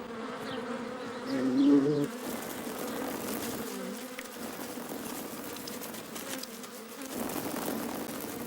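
Honeybees buzz around a food source in a nature setting, a continuous close hum that swells and fades as the insects move about.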